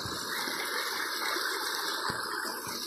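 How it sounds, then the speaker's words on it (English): A pond aerator keeps up a steady bubbling and rushing of water in an outdoor pond, continuous and moderately close, with no voices. "You can see the aerators running in the pond."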